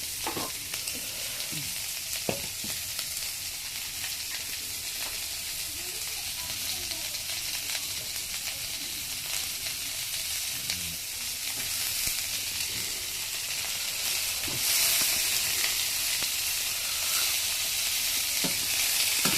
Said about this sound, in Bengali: লটকা শুটকিগুলো দিয়ে দিচ্ছি। ভালো করে সবগুলো একসাথে ভাজবো।